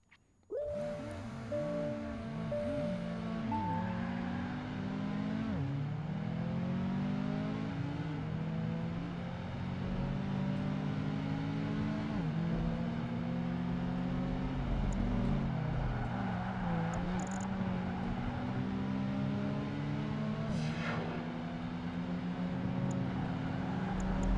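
Sports convertibles, including a Honda S2000, BMW Z4 and a Porsche, race in Project Gotham Racing 2, their engines whining and shifting through gears continuously, with rising and falling revs layered together.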